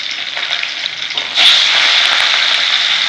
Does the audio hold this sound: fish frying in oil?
yes